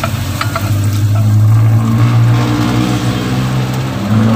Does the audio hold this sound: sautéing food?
yes